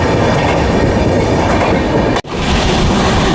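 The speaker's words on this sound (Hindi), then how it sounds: "दोस्तों अब हमारी ट्रेन क्रॉसिंग करने वाली है" Passenger train rolling along the tracks on a summer special run from New Delhi to Gaya, a loud steady rumble of wheels and carriage noise with a brief sharp dropout midway, no voices.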